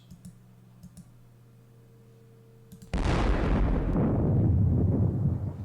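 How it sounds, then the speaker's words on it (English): Artillery fire in a Wargame Design Studio wargame set at the Battle of Kaiserslautern: after a few faint mouse clicks, a sudden loud booming blast erupts and rumbles on, dominating the remaining seconds. "So I can actually fire with my artillery. I think I should fire at these guys."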